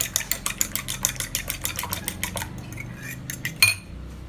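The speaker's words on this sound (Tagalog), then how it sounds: "Ngayon, batiin na natin yung ating eggs." Eggs being beaten in a bowl for a ham and potato omelette, a rapid run of close, clattering utensil strokes against the bowl that slows and thins into a few scattered taps toward the end, with no talking.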